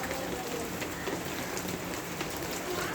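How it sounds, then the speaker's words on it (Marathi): Monsoon rain falling steadily, a soft continuous patter of drops on surfaces, fairly faint and even throughout with no talk. "दिसते पाऊस."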